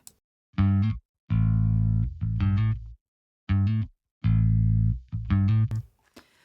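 An amplified bass guitar plays a short riff, its low notes sounding fuller and slightly gritty, with pauses between phrases and no voices.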